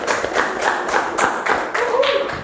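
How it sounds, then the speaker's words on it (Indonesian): A classroom of students gives a short burst of clapping for a classmate, uneven and fairly close, with separate claps and taps standing out and a brief voice near the end. "beri tepuk tangan untuk teman kita"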